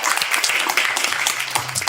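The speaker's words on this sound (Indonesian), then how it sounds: "Oke, tepuk tangan dulu buat Terima kasih." A small audience claps for a guest at an Indonesian talk session, a short, dense burst of hand claps, close and lively, with faint murmuring underneath.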